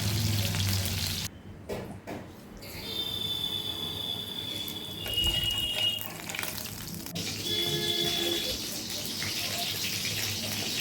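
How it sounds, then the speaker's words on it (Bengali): Turmeric and a little chili powder fry in oil for a hilsa fish curry, giving a steady close sizzle with a faint high whine and occasional stirring noises. "হলুদ আর অল্প একটু লঙ্কা গুঁড়ো দিয়ে ভালো করে কষিয়ে নেব"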